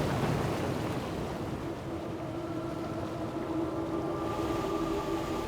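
Geyser erupting near-boiling, sulfur- and mercury-laden water from the ground, a steady, loud, rushing hiss that persists throughout with a faint humming tone running beneath it.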